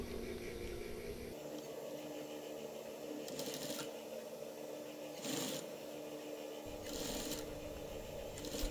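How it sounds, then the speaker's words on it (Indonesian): Sewing machine stitching a shirt collar along its stiff interfacing while making a baju koko: quiet, steady whirring runs with short louder bursts, faint and close, no talking. "Kita jahit mengikuti kain keras saja"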